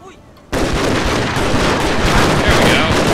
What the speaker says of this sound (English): Gatling guns at the ready!